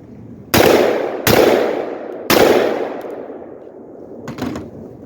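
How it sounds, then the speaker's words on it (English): .223 rifle fitted with a Radical Firearms muzzle brake firing into dirt outdoors: three loud, sharp close blasts with long ringing decay, then a fainter thud near the end. "we'll start with the Radical Firearms. And I'm going to be shooting into dirt"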